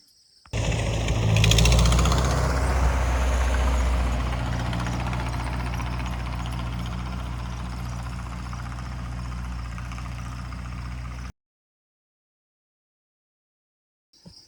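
A loud, rough Ford 8N tractor engine rumbles steadily nearby with a heavy low-frequency throb, starting abruptly and cutting off after about eleven seconds, leaving silence.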